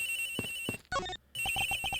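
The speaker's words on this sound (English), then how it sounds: "The ringing's coming from somewhere in here, sir." A telephone rings in the Ace Attorney Investigations video game, with a repeating electronic ringtone of short bright pulses broken by a brief melodic jingle. It sounds clear and alone, with no voices.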